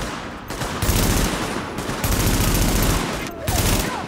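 Sustained automatic gunfire in The Division, loud rattling bursts broken by short pauses, with a voice talking over the shooting.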